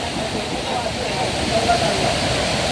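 Forest river water flowing on a trekking trail, a steady, loud broadband rush with no breaks, close by and continuous.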